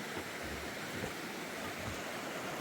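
A river flowing beneath a wooden bridge gives a steady, broadband rushing wash, faint and continuous, with no voices over it.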